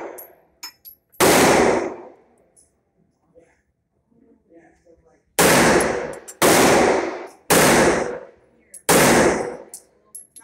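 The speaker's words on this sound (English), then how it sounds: "Enjoy the shooting range footage." Five loud, sharp gunshots from an EAA MC1911 .45 ACP pistol at a shooting range, fired one by one with gaps between them, each shot ringing out briefly, with faint background noise and small clicks between shots.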